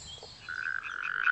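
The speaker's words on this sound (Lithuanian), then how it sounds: "Štai česnakė, rupūžaitė katės akimis" A common spadefoot toad calls from wetland water in a rapid run of short, bright notes, close and fairly loud with nothing else over it.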